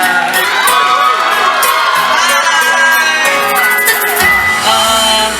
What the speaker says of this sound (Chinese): 再给他一个热情的掌声加尖叫声